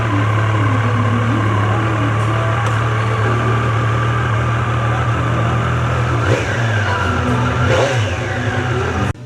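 Triumph Street Triple 765 RX triple-cylinder motorcycle engine running close by, a loud steady idle with a few short throttle blips that rise and fall, no talking over it.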